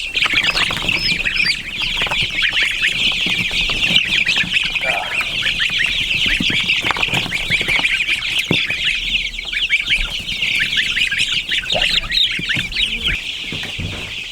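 Young Bielefelder chickens make a dense, continuous chorus of high peeping and clucking, loud and close throughout, with no talk over it.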